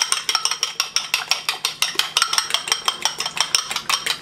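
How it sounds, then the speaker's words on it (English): Eggs whisked briskly in a bowl for a bacon, jalapeno and cheese omelet, a steady fast clatter of the whisk against the sides, close and clear with no talking. "Whipping our egg."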